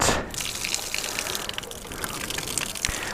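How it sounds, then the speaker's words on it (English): Fresh spring water gushes steadily from a spout at a roadside stop, a loud continuous splashing close by. "this must be the fresh spring water"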